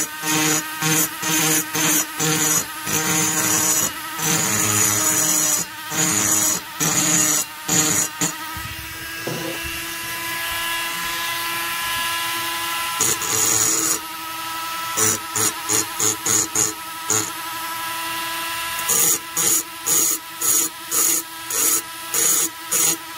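A rotary die grinder works the transfer ports of an Echo 670 chainsaw cylinder, a loud, close, high whine cutting metal in rapid stuttering pulses with a few steadier continuous passes.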